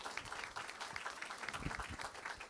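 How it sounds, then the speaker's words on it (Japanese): An audience at a live concert at Tokyo Tower gives steady, dense applause, many hands clapping together, faint and somewhat distant. "もう一度大きな拍手をお願いいたします"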